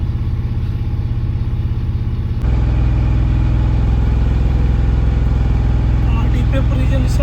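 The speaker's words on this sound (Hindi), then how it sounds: "देख सकते हैं गाड़ी का नॉइज़ साउंड में चेंज है। 2000 RPM पर गाड़ी रहेगा।" A Mahindra Jeeto engine held at 2000 RPM during DPF regeneration, a steady close diesel drone that steps up louder and fuller partway through and then stays even. A voice speaks over the engine noise.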